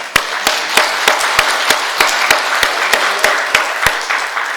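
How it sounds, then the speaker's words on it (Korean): A church congregation applauds in a steady wash of many hands, with sharper individual claps standing out at a regular beat, loud and continuous with no talking. "하나님께 박수로다가 영광을 돌려드리겠습니다"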